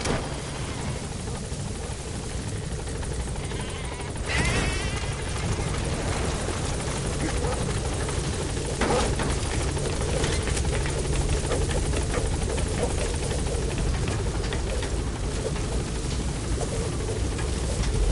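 The Pequod helicopter from Metal Gear Solid V arrives at a landing zone, its rotor wash a loud, steady roar with a throbbing chop that swells slightly after a few seconds and holds.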